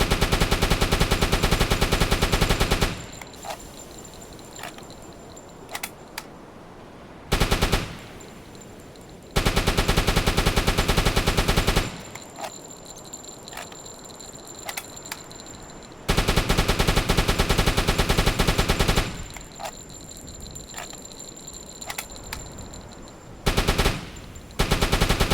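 A deck gun on a Type IID U-boat in UBOAT fires in long sustained bursts, loud rapid automatic fire alternating with quieter gaps of sea and ambient noise, several bursts in all.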